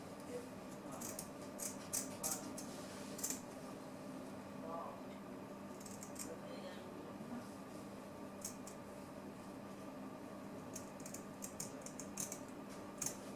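Scissors snipping around a sheet of glittery paper, with short crisp cuts in irregular bursts that stay faint against a steady background hum.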